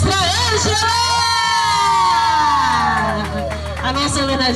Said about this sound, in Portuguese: Uma salva de palmas pra Anja!